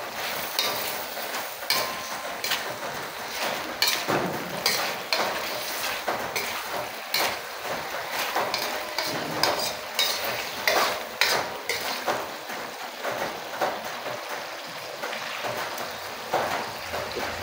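Chicken adobo with vinegar is stirred in a pan: close, irregular utensil scrapes and knocks against the pan over a soft background sizzle.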